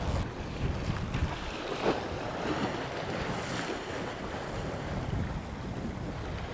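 Steady wind buffets the microphone on a rocky coast during rock fishing, a continuous loud rushing roar with gusty swells and no talk.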